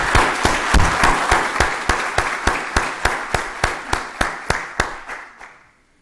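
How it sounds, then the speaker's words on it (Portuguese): An audience at a PMI Portugal Toastmasters event claps for the sponsoring organizations, with steady, evenly spaced claps that stay strong, then thin out and fade away near the end. "Para todas as organizações, para vós, eu ia pedir uma grande salva de palmas."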